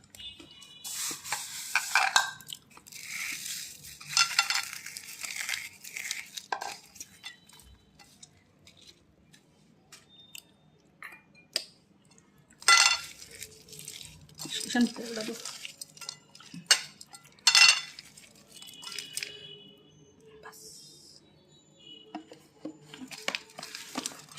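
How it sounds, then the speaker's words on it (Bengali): Puffed fried rice is mixed in a bowl with green chilli, chanachur, onion, cucumber and tomato, giving close, repeated bursts of scraping, stirring and clinking utensils separated by quieter pauses. "এই সবগুলা দিয়ে কিন্তু এই চাল বাজারা আমি মাখবো"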